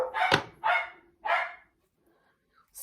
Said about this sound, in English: So when the dogs hear someone get home, they tend to go very excited,